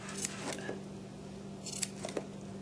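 Scissors snip through car headliner fabric in a quiet workshop, a few short, close cuts spaced irregularly over a low steady hum.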